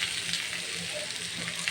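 Chopped tomato hits a fish masala frying in a little oil, giving a steady close sizzle with a soft crackle throughout.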